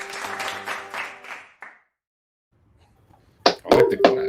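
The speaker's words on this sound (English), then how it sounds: "I like the claps." A short burst of clapping sound effect enters after a brief silence, several sharp, close claps over about a second, following earlier toned sound.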